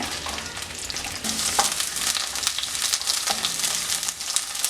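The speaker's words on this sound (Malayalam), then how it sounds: "ഇതിലേക്ക് വെണ്ടക്ക ഇട്ട് കൊടുത്തൊന്ന് വഴറ്റിയെടുക്കാം" Okra sautéing in hot oil in a pan for a tomato curry, making a loud, continuous crackling sizzle, with rustling stirs that push it louder partway through, heard up close with no voices.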